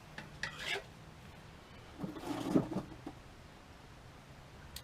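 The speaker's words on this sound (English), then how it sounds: "you'll catch me with the little 4-in-hand. Just for this ever so slightly, this little bit of sanding here" Wood is worked by hand with a four-in-hand rasp in two short, faint bursts of scraping strokes, the second a little longer and louder.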